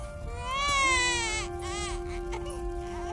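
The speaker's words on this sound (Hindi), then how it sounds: "अरे, बच्चे की रोने की आवाज तो मेरे आंगन से ही आ रही है।" A cartoon baby cries in a high, wavering wail with rising and falling pitch, loud and close at first, then fading into shorter sobbing whimpers against a steady background tone.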